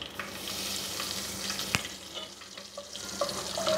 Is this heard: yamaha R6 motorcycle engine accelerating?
no